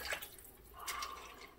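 Water poured from a container over potatoes in a cooking pot, giving a soft, steady splashing and trickling with a brief louder gush near the middle, close by and without talk.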